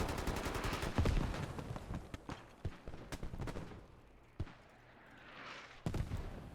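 Gunfire and mortar fire in the tactical shooter Squad during a 26-versus-26 tournament match: rapid bursts of distant and mid-range shots, sharp cracks, and heavy booming impacts scattered through several seconds of battle noise.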